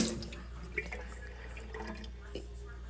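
Water running from a kitchen tap, a faint steady splashing stream with a couple of small clinks, heard alone at low level.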